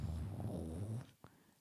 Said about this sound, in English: I think it's a purr.